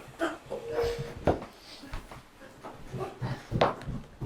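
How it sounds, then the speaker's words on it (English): Dogs at home make brief, fairly quiet whimpering and snuffling noises in scattered bursts amid household sounds. "Noisy dogs."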